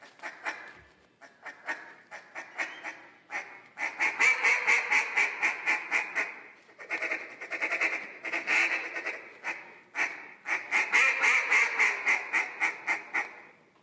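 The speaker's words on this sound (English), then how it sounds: "Listen to this guy blow a duck call." A champion caller blows a duck call in a rapid run of loud, close quacks, building into fast, sustained bursts of calling.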